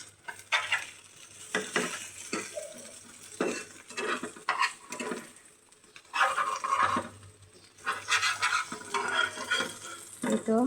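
Egg bhaji is stirred into a sizzling pan, with irregular bursts of scraping and clinking from the utensil over a steady frying hiss, close and fairly loud.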